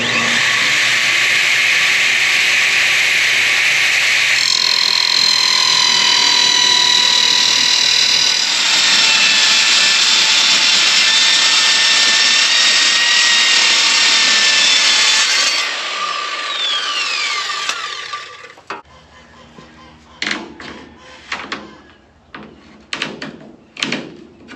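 A loud power saw blade cuts through wood in a long steady whine, ending and spinning down, followed by scattered knocks and clatter as the cut piece is handled.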